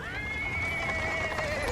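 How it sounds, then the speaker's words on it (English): A small horse pulling a cart over pavement stones in the Pathfinder: Wrath of the Righteous game, with a prominent horse whinny and clip-clop under a faint voice and a steady tonal background. "He's interrupted by the sound of wheels rolling on the pavement stones"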